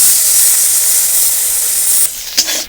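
Small turmeric-coated fish frying in hot oil, a loud continuous close sizzle that drops slightly toward the end, where a few brief knocks and scrapes from the pan cut through.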